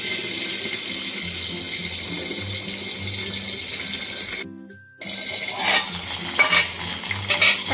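Garlic and curry leaves frying in hot oil in a pan, a steady close sizzle and crackle that drops out briefly, then returns louder with sputtering bursts.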